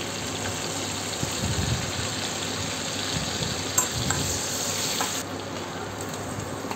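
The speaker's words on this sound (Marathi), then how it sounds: "यातच आपण आलं लसूण पेस्ट घालून घेऊया. हिरवी मिरची घालूया." Ginger garlic paste and green chillies sizzling in hot oil for paneer bhurji, a steady loud crackling hiss that runs continuously and close, with occasional stirring, no voices.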